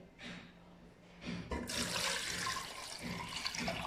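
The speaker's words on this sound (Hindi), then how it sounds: "उसके बाद हम इसमें 3 प्याली पानी डालेंगे।" Water poured into a cooking pot over meat for green masala rice, three cups going in as a steady splashing pour that builds and runs continuously, close and fairly loud with no talk.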